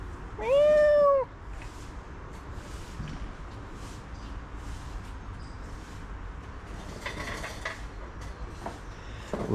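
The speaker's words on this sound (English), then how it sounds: "there's a whole bunch of feral cats up here by the theater entrance" A feral cat by a theater entrance gives one loud, clear meow close by, followed by quieter street ambience and faint clatter.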